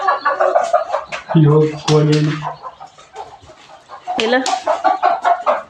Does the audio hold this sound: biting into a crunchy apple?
no